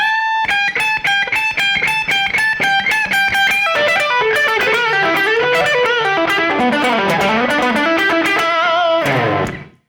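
A distorted electric guitar plays a fast blues rock lick. It opens with repeated staccato chord stabs, then runs into quick bending single-note phrases and ends on a ringing chord, loud, close and alone.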